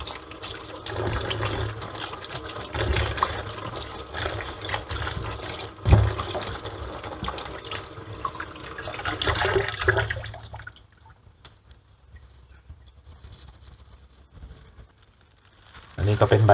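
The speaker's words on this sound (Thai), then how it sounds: "เอามะเขือยาวมาล้างก่อน" Running tap water splashing over pesticide-free long eggplants being washed, with handling clatter, stopping partway before a brief splash returns; voices are present.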